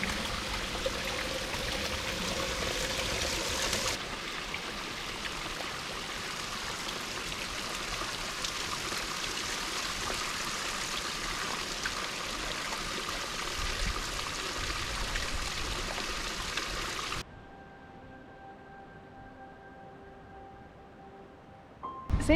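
A mountain stream tumbles down a waterfall on New Zealand's Routeburn Track in a very wet region, a loud, steady rushing roar close by that cuts abruptly to quieter surroundings near the end.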